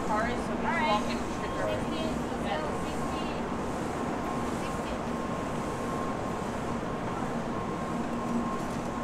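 Steady rumble and hiss of a Japanese bullet train cabin on the run to Kyoto, constant and close, with a faint high tone and people talking over it near the start.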